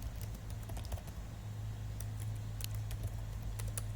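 Quick bursts of typing on a computer keyboard while entering a name, light rapid key clicks over a low steady hum, close and fairly quiet.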